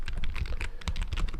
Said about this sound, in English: I'm assuming my keyboard is super loud because my microphone is like right on the keyboard.